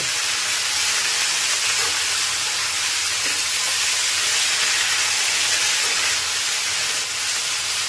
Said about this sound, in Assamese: তো শাকখিনি আমি ভালদৰে ভাজি ল'ম।